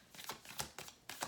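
Tarot cards being shuffled by hand in a quiet room, several short riffling bursts in quick succession, faint and close.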